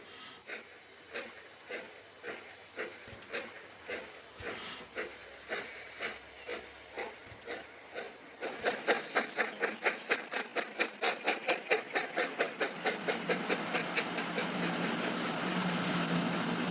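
French railway steam locomotive of the 141 TB class hauling wagons, with evenly spaced exhaust chuffs that grow louder and quicken, then merge into a dense rhythmic beat over a steady hiss of steam.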